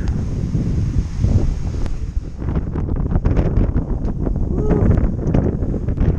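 Strong wind blows on a mountain trail along the Appalachian Trail, a continuous loud rushing and buffeting roar close to the microphone with gusty surges throughout.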